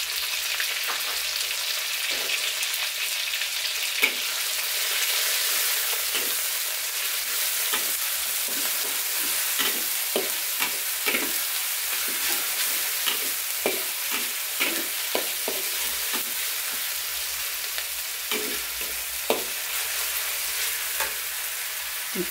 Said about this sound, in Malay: Kita tumis sekejap bahan-bahan tumis kita.